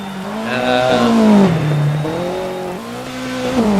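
An Alpine rally car's engine in a digital rally racing game, revving up and down in rising and falling sweeps, loud and close throughout.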